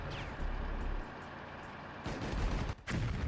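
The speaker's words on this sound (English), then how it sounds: "The enemy firing at advanced infantry and equipment without aiming." Gunfire during an infantry assault on enemy positions, heard as rumbling, overlapping bursts and blasts with a brief drop in between, dense and fairly distant with no talk.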